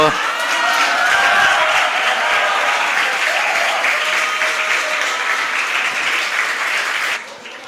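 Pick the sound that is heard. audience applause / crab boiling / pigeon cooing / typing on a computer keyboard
audience applause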